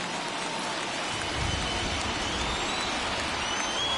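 Steady rain falls during a baseball game in the ALDS, a broad, even hiss of drops on surfaces that continues without a break.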